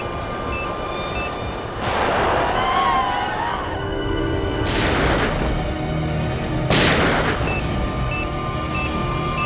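Gunshots fired inside a crowded station during a police confrontation, two or three sharp loud bangs with ringing tails, spaced a few seconds apart over a steady background hum.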